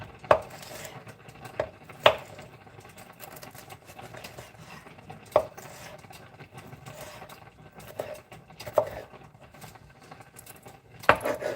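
A very sharp kitchen knife striking a cutting board while food is chopped, sparse sharp knocks spaced several seconds apart with faint clinks and a low steady background hum between them.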